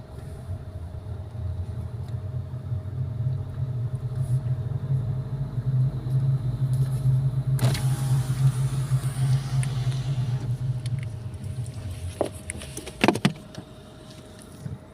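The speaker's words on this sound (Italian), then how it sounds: "la macchina si spegne perché start and stop, quindi non sto schiacciando niente, adesso si riaccende" A car halted on a mountain climb near Montagnaga, Trentino, with its start-stop system: a steady low engine rumble runs, shifts character midway, then brief mechanical clunks follow near the end, close and moderately loud.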